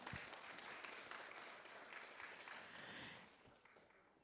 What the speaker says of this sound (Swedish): en applåd först, tack.